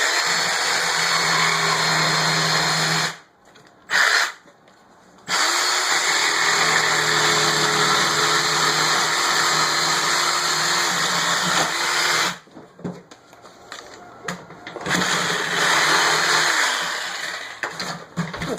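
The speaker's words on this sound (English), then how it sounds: "get the jigsaw here, just cut that piece out" A jigsaw cuts a piece out of the back of a wooden drawer for a soft-close slide, a loud steady buzzing motor whine that stops briefly twice, then resumes with uneven rattling.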